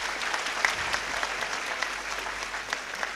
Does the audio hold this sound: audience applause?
yes